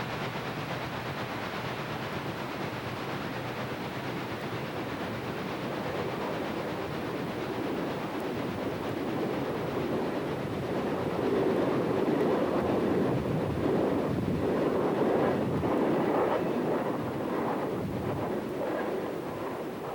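Chesapeake and Ohio steam locomotives 3012 and 3027 run eastbound together at Lenexa, a dense continuous rumbling roar with rhythmic chuffing swelling louder midway, heard from trackside with some wind buffeting.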